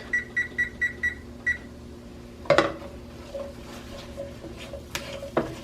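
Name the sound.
kitchen timer being set, beeping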